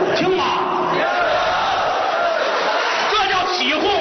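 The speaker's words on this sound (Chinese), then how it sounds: "这叫起哄啊！" A crosstalk show audience heckles and jeers, a loud burst of crowd shouting, whoops and laughter that swells and fades over a few seconds in a theatre hall.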